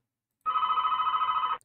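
A telephone rings once, a steady electronic trill lasting about a second after a brief silence, loud and close with no voices.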